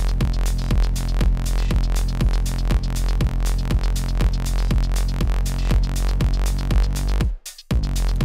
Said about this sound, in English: It's a simple dance beat and bass line.